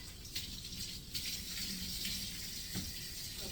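A steady rush of running water from a touchless kitchen faucet, fairly close, with a constant hiss and no voices.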